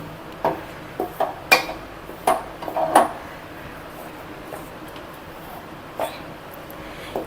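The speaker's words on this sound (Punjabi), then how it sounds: "ਤੇ ਇਹਨੂੰ ਇੱਕ ਖੁਰਚਣੇ ਦੇ ਨਾਲ ਆਪਾਂ ਹਿਲਾਵਾਂਗੇ ਹਿਲਾਉਂਦੇ ਹੀ ਰਹਿਣਾ ਜੀ ਇਹਨੂੰ" A spatula scrapes and knocks against a pan as a laddu mixture with melon seeds and fennel is stirred over a low gas flame. The taps and scrapes come in scattered, irregular bursts, close and fairly faint.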